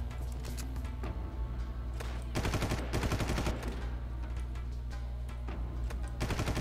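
Gunfire in the video game Far Cry, with bursts of rapid automatic shots and scattered single cracks over a low rumbling game background.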